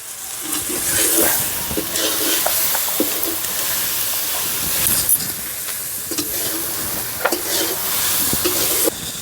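Onions fry in a pan with salt and turmeric, a steady close sizzle and hiss with occasional stirring scrapes and clinks, loud and continuous with no talking.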